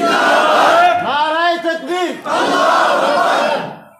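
A crowd at an Islamic religious sermon in Bangladesh shouts a slogan in unison, a loud massed roar of chanting voices rising and falling in call-and-response waves before fading out.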